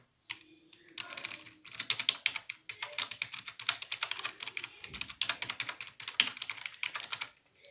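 Rapid keystrokes on a desktop computer keyboard, close and crisp, with bursts of irregular tapping and short pauses, no voices.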